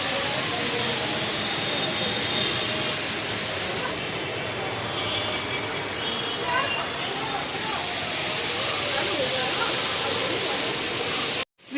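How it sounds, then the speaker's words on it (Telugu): A steady, loud rush of falling water fills the space at a waterfall feature at the ISKCON temple in Bangalore, a continuous broadband roar with faint background activity mixed in. "వాటర్ ఫాల్స్ సూపర్ ఉంది."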